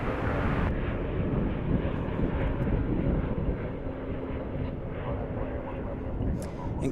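A Spirit Airlines Airbus A320 at DFW airport gives a steady, loud, broadband jet roar that holds throughout, with a person talking faintly underneath.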